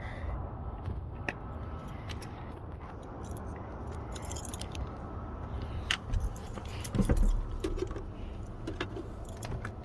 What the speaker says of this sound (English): It has the original key.